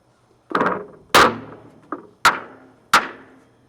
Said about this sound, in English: you can turn a hammer down sideways and you can get some dents and dings in there